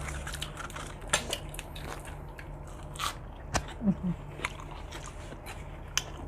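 Crunchy chewing of spicy cuttlefish papaya salad, close and fairly quiet, with irregular crisp bites and crunches spread over a few seconds and no talking.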